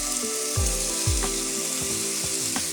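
Swordfish steaks laid into a hot grill pan give a steady sizzle and crackle throughout, with a few low thumps as the steaks are placed.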